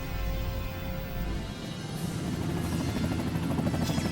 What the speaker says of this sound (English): we got choppers coming in from the east